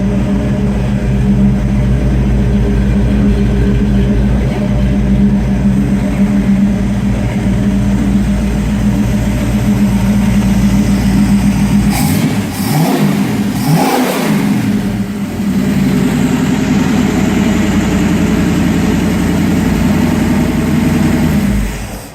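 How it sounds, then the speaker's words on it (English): A 1951 Willys Wagon with an AMC 401 engine and Flowmaster exhausts rumbles loudly at close range, a deep steady idle broken by a couple of revs midway. "Nice sound to it, these Flowmasters on it."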